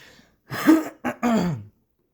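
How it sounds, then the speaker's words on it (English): Someone nearby clears their throat in two short, rough bursts, followed by silence. "My apologies, clearing my throat here"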